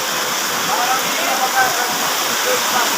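Heavy rain pours down in a steady, dense roar, close and loud, without a break from start to finish.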